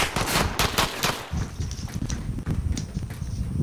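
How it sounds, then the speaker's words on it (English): Warzone gunfire with a burst of rapid shots early on, then scattered, more distant rattling shots under a steady rush of wind noise. "Where the hell is he shooting us from?"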